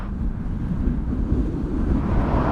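Strong gusty tailwind buffets a cyclist riding along a coastal highway toward Los Angeles, a loud, continuous low roar of wind against the microphone with no talking.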